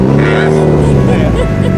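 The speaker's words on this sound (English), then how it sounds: "Have you ever seen an all-wheel drive burnout?" A Mitsubishi Evo all-wheel-drive car doing a burnout at a shop, its engine revving loud and steady throughout the short stretch, with a voice audible over the roar.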